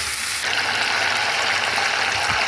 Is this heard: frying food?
yes